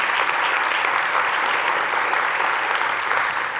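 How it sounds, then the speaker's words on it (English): Steady applause from a conference audience at a geospatial technology event, dense and even clapping held at moderate loudness for a few seconds. "Another big round of applause for them."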